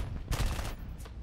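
An autocannon on a P-36A aircraft in War Thunder fires a short rattling burst followed by a brief single report, close and fairly loud, with no talking.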